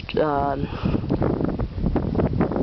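Gusty wind buffets the microphone with a steady low roar at the abandoned Swain ski resort in New York, while a person speaks throughout over the blustery noise.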